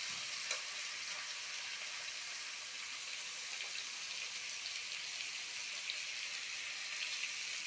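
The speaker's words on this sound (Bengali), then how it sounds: "কচু আলু পেঁয়াজটাকে এরকম একটু ভেজে নেব" Taro, potato and onion fry in oil with chili, ginger and cumin pastes, giving a steady, close hiss and sizzle with faint stirring scrapes throughout and no talk.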